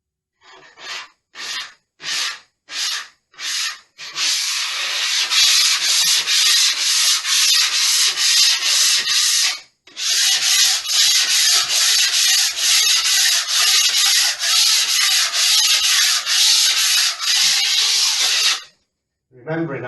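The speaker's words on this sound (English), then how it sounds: "then go over the sanding block" A hand sanding block rubs over mist-coated new plaster, first in several separate short strokes, then in a long, continuous, close scratching rasp that pauses briefly midway and stops near the end.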